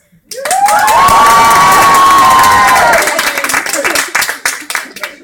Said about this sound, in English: Let's make that some applause.